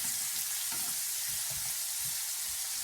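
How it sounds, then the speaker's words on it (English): Celery, onion, carrot and jalapeno sizzle steadily in a hot pan, a loud, continuous hiss with faint stirring underneath. "I'm dropping the veggies."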